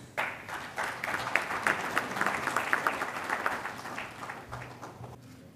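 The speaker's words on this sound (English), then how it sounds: "A big round of applause, please." Applause from the audience at the book release during the inaugural session of a sustainable development leadership summit, a dense crowd clapping that swells quickly, holds steady, then tapers off.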